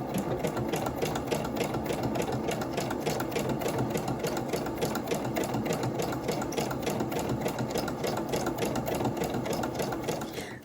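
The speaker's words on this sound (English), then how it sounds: "the machine is working wonderfully, and I just did a zigzag stitch on two sides to make this into a tuck" A sewing machine runs a zigzag stitch through two sheets of cardstock, its rapid even needle clatter continuing steadily and close for the whole stretch before stopping.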